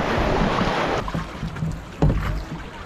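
Rushing water of river rapids on the Kenai River, Alaska, and wind buffeting around a small boat, loud and close, with splashes and knocks on the hull.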